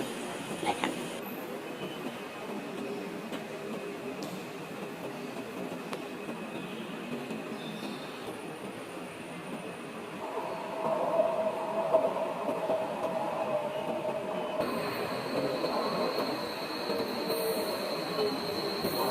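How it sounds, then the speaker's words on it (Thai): A BTS Skytrain pulls into Bearing station in Bangkok with a steady rail rumble that swells partway through, joined by thin, high wheel and brake squeals as the train slows near the platform. "ตอนนี้รถกำลัง เข้ามาในสถานีแล้วนะครับ"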